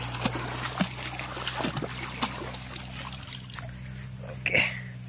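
Water trickles and splashes softly while a spotted dove's dirty feet are washed outdoors near a harvested corn field; a faint, steady flow with a few small splashes, over a low constant hum.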